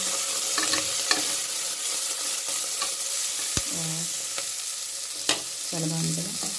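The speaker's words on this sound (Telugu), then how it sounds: "చిటిపట మంచిగా అవుతుంది." Chopped onions and green chillies sputtering in hot oil in a pan, a constant close sizzle with occasional utensil knocks and brief scraping strokes, no talking.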